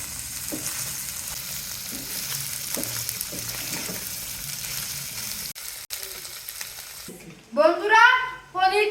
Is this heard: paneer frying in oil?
yes